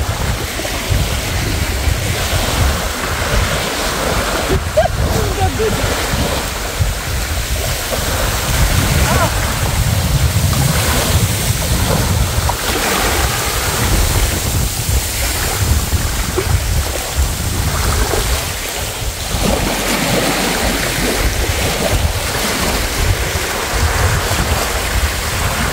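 Strong wind buffets the microphone beside the Danube during a fishing trip, a loud steady roar with gusty low rumble and lapping water throughout.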